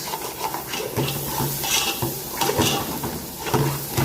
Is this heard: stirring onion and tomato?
yes